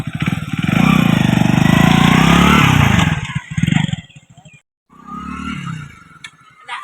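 A black motorcycle engine runs loud and close with a steady throb, sputters briefly and then cuts out, followed by quieter background sound and voices.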